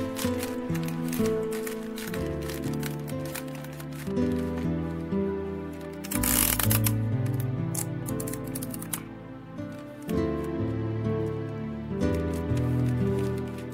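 A plastic wrapping bag is handled, with continuous crinkling and rustling throughout, close up, over soft background music.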